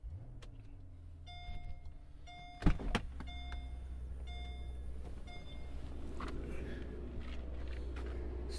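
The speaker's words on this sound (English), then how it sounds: "Start off with the driver's seat, slide forward." The electric driver's seat motor of a 2005 Mercedes SL600 hums steadily at close range inside the cabin, running for several seconds after a brief clunk and a few faint beeps.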